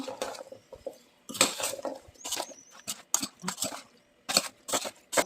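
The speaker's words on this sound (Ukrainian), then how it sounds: "Трошки помішаємо цю цю масу." Zucchini in satsebeli sauce with oil and Korean-style seasoning is stirred in a pot. A spoon scrapes and clinks against the metal in short, irregular bursts, with quiet pauses between strokes, close up.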